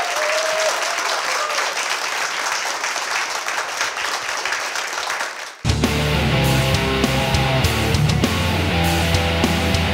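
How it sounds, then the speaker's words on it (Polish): Loud, sustained crowd applause at a live one-man show fills the space, thinning briefly before giving way to music with clapping continuing over a steady beat. "Gromkie brawa!"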